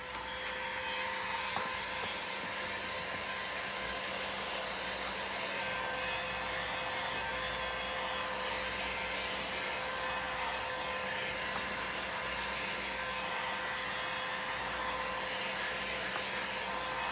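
A heat gun blows continuously with a steady, close airy roar and faint whine while heating a section of wire during a transmission reassembly, unbroken and without talk.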